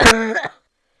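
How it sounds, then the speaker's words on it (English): One close, sharp cough followed by a short throat-clearing rasp, then silence. "I just coughed"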